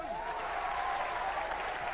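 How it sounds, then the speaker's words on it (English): Studio audience applause at a televised robot combat show, a dense, steady wash of clapping that fills the short stretch at an even level with no voices on top. "Ladies and gentlemen, give them a round of applause."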